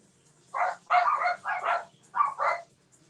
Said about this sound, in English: My dogs do not like any other dogs outside.